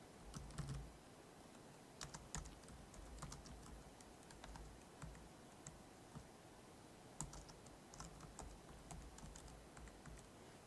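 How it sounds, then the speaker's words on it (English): Steady typing on a computer keyboard, moderately close and quiet, with irregular key clicks and a few louder taps running through the whole stretch with no talk. "I type in the new address found."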